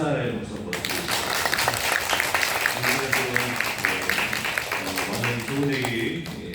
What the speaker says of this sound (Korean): 우리 감사의 박수 한번 드리겠습니다.